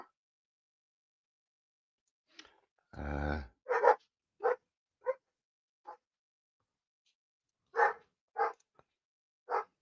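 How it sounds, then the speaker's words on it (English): Dogs barking indoors or nearby, several short separate barks spaced irregularly with one longer growly burst, moderately loud against near silence. "Stupid dogs still barking already for no reason."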